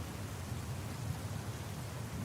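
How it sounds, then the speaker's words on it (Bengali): Heavy cartoon rainstorm pouring down steadily, a dense hiss of rain over a low, continuous rumble of thunder, with no talk. "মেঘ গরজে ওঠে। হঠাৎ করে ঝমঝমিয়ে বৃষ্টি নামতে শুরু করল।"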